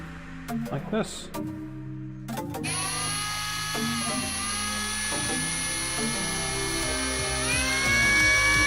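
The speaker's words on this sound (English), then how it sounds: "listen to this whining from the drill" A high, steady whine from a power drill spinning continuously after a few knocks at the start, close and sustained, rising slightly in pitch near the end.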